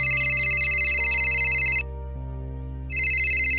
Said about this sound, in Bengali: ফোন বেজে উঠল।